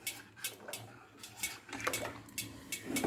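Rice pudding is stirred in a pot, with a spoon clinking and scraping against the metal in quick, irregular taps, some louder than others, close and fairly quiet.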